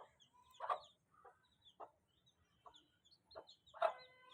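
A hen clucks beside her four small chicks, with short bursts of clucking and high chirps spaced irregularly across a few seconds, close and fairly quiet against a calm background.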